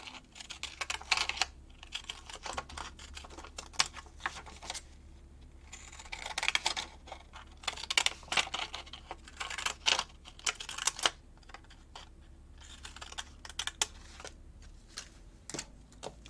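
Scissors snipping and paper rustling against a glass table top while crafting Christmas tags, a run of quick, close, clicky cuts in bursts with short pauses between them.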